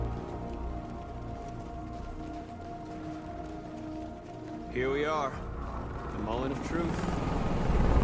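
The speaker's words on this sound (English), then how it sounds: "Helicopter flying through." A helicopter flying through a military standoff in the game Detroit: Become Human, a continuous low rotor rumble that swells slightly toward the end, heard beneath someone speaking.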